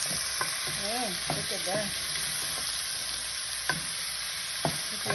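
Onion browning for beef stew in a pot on the stove, a steady close sizzle and frying hiss throughout, with a brief stir and a few spoken words over it.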